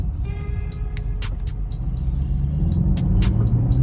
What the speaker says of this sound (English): It's whining and shifting aggressively. It's in track.